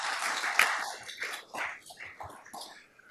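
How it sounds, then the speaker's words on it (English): An audience at a highway information meeting applauds, with a burst of clapping that swells and fades in uneven waves over a few seconds. "give her a round of applause"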